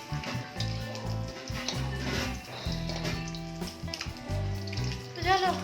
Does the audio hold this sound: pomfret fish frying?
yes